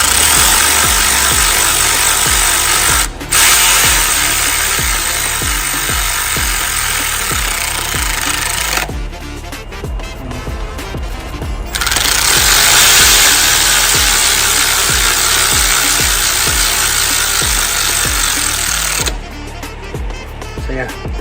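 A power tool runs up bolts on a Ford Fiesta Zetec S engine, making loud, continuous whirring bursts that each last several seconds, separated by short pauses.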